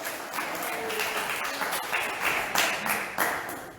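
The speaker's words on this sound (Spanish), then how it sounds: "Dale un aplauso más grande al Señor" Moderate applause from a church congregation, a continuous patter of clapping with a few louder bursts toward the end.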